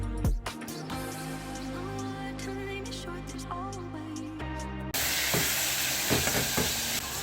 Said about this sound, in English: fry them all together.